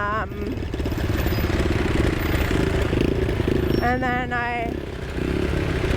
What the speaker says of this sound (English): my sister's bike needs a little bit of a tune-up because it seems to be backfiring quite a bit